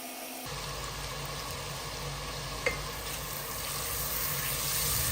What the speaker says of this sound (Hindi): मैं अच्छे से इस प्याज के पेस्ट को जो है ना पकने दे रही हूँ इन गरम मसालों के साथ